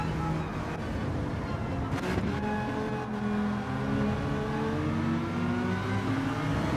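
Gr.4 race cars at Brands Hatch, with steady engine whine that climbs in pitch through the gears as the cars accelerate. The engine noise stays continuous and fairly close, with no clear talk over it.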